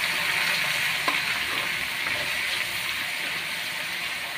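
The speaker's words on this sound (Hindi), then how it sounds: "सबसे पहले हम उस पेस्ट को भूनेंगे" Ginger-garlic paste frying in a pan for an aloo matar curry, a steady close sizzle with a few soft stirring knocks, no voices.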